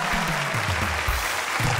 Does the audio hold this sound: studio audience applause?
yes